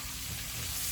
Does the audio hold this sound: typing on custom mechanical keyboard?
no